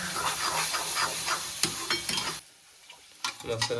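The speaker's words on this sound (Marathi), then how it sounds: "वाटणाला तर भाजून घ्यायचं तेल, मिक्स करायचं." Masala paste for a mushroom curry fries in hot oil with a busy sizzle and stirring scrapes, drops to near quiet briefly, then the crackling and stirring pick up again.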